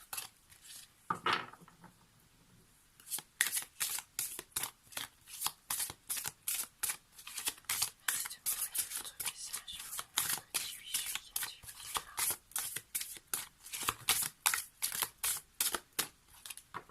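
A deck of tarot cards being shuffled up close: after a near-silent start with one soft rustle, a long run of quick, crisp card flicks and riffles repeats steadily to the end, with no talking.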